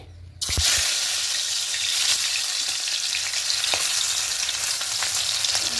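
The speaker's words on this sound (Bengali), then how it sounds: "দিয়ে মাছগুলো আস্তে করে দেবো মাছগুলো খুব ফুটবে" Fish lowered into well-heated oil in a pan on a gas stove with the flame turned low, giving a loud, steady sizzle and spatter that jumps in suddenly and continues throughout, with no voices.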